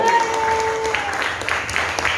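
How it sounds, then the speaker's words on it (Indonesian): Students in a high school classroom clap hands together, a brief burst of scattered claps with a faint tone at the start, fairly close and moderately loud. "Tangan dikasih tepuk tangan dulu."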